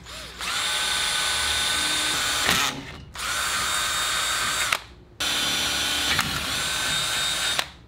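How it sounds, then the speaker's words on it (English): A power drill bores out rivets on a boat trailer in three sustained bursts, each a loud steady whine lasting one to two seconds, separated by brief pauses with no talking. "So I'm gonna have to drill these rivets out"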